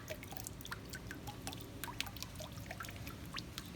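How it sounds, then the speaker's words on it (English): Water dripping and trickling from shaken papermaking pulp, a faint scattered patter of irregular drops over a soft background hiss. "Shake, shake, shake, shake, shake that water out."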